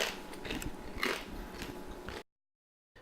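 Bites into crunchy homemade vegan bacon give close, crisp crackles in quick bursts over about two seconds, followed by a sudden cut to silence.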